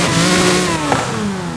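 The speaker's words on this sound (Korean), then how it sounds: "이것이 바로 자연흡기의 엔진 소리." A naturally aspirated car engine with a wide two-metre body runs with a steady, close rumble, its pitch shifting slightly as it revs, with no talking over it.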